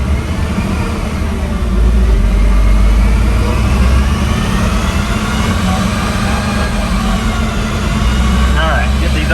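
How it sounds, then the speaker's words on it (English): Stock Subaru STI RA engine running on a dyno in fourth gear, a loud, steady, droning roar that climbs slightly in pitch as revs build, with faint talk underneath. "All right, get these RPMs up."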